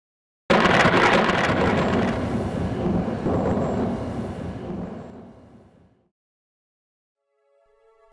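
Thunder from a lightning strike, a loud sudden crack that rolls into a long rumbling boom and fades over about five seconds to silence.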